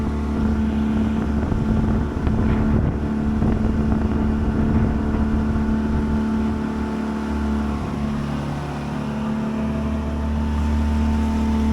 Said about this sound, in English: Load of boats suddenly appeared out of nowhere.